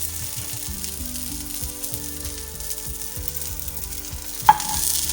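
Omelette mixture frying in a little oil in a pan, giving a gentle, steady sizzle under a tonal background hum, with one sharp utensil tap near the end followed by a louder burst of frying.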